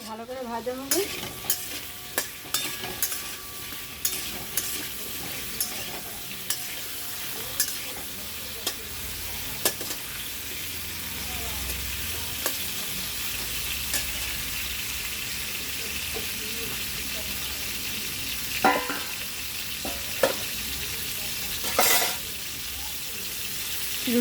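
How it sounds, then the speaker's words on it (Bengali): Salted, turmeric-coated papaya and potato pieces fry in hot oil, a continuous close sizzle broken by the frequent scrape and knock of a spatula stirring, with brief splashy bursts near the end and no talking. "একটু লাল লাল করে ভাজতে হবে।"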